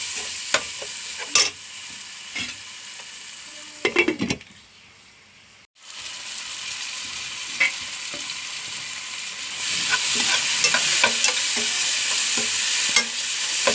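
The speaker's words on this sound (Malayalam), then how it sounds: "തക്കാളി ഒന്ന് പാകായി വറുക്കാം" Tomatoes fry in a pan for Thalassery dum biryani. A steady sizzle is broken by clinking stirs, drops almost to quiet for a moment, then returns louder and denser toward the end.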